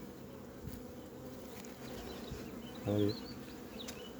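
Honey bees buzzing around an open hive with brood frames as a beekeeper works, a steady close drone with a brief louder hum near the end and a single spoken word.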